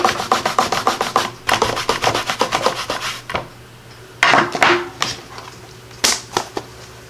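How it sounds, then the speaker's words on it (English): A rubber stamp is scrubbed clean nearby, giving a quick rhythmic series of rubbing strokes that slows into a few separate scrapes and swipes, with no talking. "I am going to clean my stamp just over here off camera."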